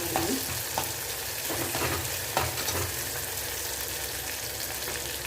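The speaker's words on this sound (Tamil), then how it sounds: "தக்காளி வதங்கி வரட்டும் பார்க்கலாம் இப்போ பார்த்தீங்கன்னா தக்காளி நல்லா வதங்கிடுச்சு" Tomatoes sauté in a pan as the base for a jackfruit-seed, poppy-seed and raw-mango kuzhambu, giving a steady close sizzle with light stirring scrapes throughout and no talking.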